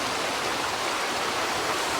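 Water rushes steadily beneath an old bridge, a dense, constant flowing hiss heard close and alone with no voices.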